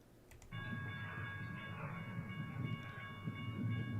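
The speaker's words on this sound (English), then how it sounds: "what you're hearing is the slack getting pulled out" Steady rumbling of a freight train of hopper cars rolling past, with rhythmic metallic clicking and clanking as slack is pulled out between the cars, over a constant low drone.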